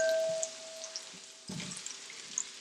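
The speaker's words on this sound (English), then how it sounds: "that is going to help those potatoes get a beautiful, crispy little crust on them when they are cooking in the cast iron" Potatoes for breakfast home fries drop into a hot cast iron pan and sizzle, a soft steady frying hiss that swells briefly after a clatter midway, with no talk.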